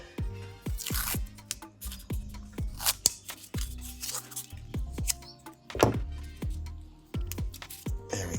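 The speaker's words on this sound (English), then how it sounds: "I'll wrap it one more time with a little bit more tape" Grafting tape being stretched and wrapped around a dragon fruit cactus graft gives off a close, steady run of crinkly tearing, crackling and sharp plastic snaps, with no talk.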